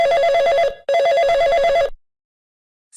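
A telephone rings with two bursts of a bright electronic warbling tone, close and loud, followed by silence.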